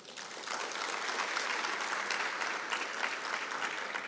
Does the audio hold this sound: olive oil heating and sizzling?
no